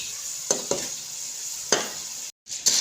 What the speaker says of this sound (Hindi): मैं मीडियम आंच पे दाल को फ्राई कर रही हूँ।